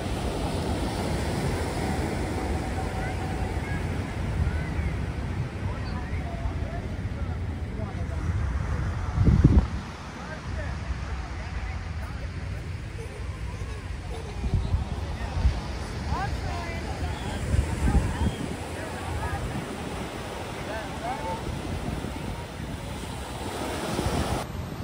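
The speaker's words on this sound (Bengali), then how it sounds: "এই যে ঢেউ।" Ocean surf breaking on the Atlantic shore at Hampton Beach State Park, New Hampshire, in the evening: a steady, broad wash of waves with wind buffeting the microphone and one louder thump near the middle.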